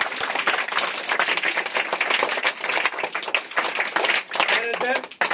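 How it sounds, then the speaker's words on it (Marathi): Students and guests at a school supply-distribution event clap together, brisk irregular claps close by with a voice talking over them near the end. "आणखी एक वेळेस टाळ्या वाजूया"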